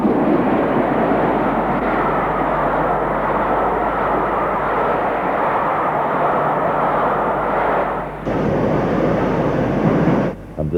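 A Princess Royal Pacific steam locomotive passes on a main line, a loud, continuous roaring rumble close by that holds steady, with a brief dip and shift near the end.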